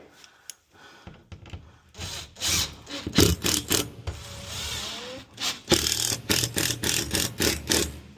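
Screws are driven into a ceiling joist while a ceiling rose is being fitted, with a series of grinding, rasping bursts of a driver biting into wood, close up, with short pauses between runs.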